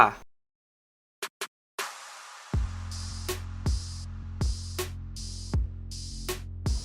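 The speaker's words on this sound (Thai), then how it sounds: "คาวาซกินินจา ZX10R" A Kawasaki Ninja ZX-10R motorcycle engine settles into a steady low idle after a few sharp clicks, with regular crisp pops breaking through the rumble.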